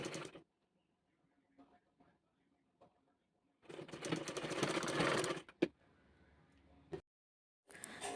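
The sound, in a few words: sewing machine stitching puff sleeve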